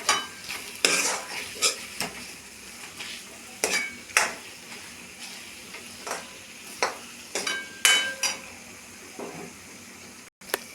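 Red masala and other ground spices for a village-style fresh prawn curry are stirred in a pan, with rhythmic scraping and clinking strokes over a faint sizzle, close by and with no talk.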